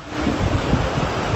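Storm waves crash and surge on the İzmir shore in a steady, loud roar of churning surf, with wind buffeting the microphone and no voices.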